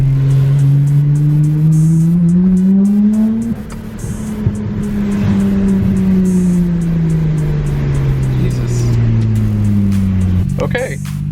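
A Nissan Skyline R32 GT-R with an Apexi power intake revs hard, its engine note climbing, dropping sharply as it shifts, then rising and falling again, loud and close, with a person speaking over it.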